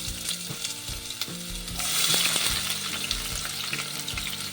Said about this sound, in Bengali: তেলের মধ্যে পেঁয়াজ দিয়ে দিলাম